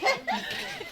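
Dogs bark and yip in short bursts in a village in Haryana, close and moderately loud, with a couple of sharp yelps within a second.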